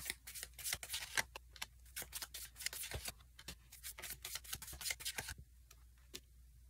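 Tarot cards riffle and slap down in a steady run of quick, crisp shuffles and flicks, close and fairly quiet with no talk, easing off toward the end.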